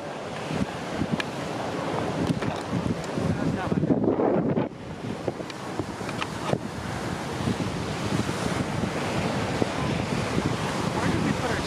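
Ocean surf at Miami Beach rolls in as a steady wash of breaking waves, heavily buffeted by wind on the microphone, loud and continuous throughout.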